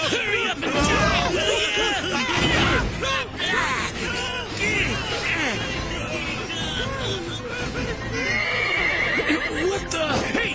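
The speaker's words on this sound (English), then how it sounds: "Hey, get them horses calmed down!" Horses neighing and whinnying in an animated horror film scene, loud repeated whinnies mixed with hoof clatter, overlapping raised voices and crowd babble.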